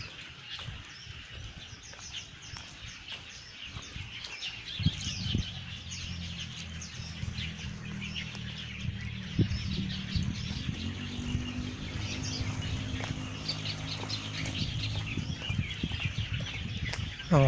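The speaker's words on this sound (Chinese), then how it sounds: "哦，好多鸟叫声。" Many birds chirp and twitter in a busy chorus near a vegetable garden by a temple, with a low steady rumble underneath.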